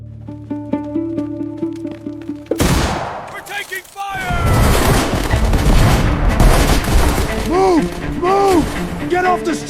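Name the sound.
battle sound effect of artillery and gunfire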